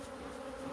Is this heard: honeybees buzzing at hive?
yes